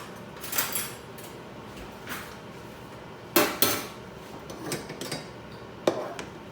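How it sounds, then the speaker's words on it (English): Metal cutlery rattles in a home kitchen as a small spoon is grabbed, with a few sharp clinks and clatters at irregular intervals, close by and with no talk. "I'm going to grab a little spoon."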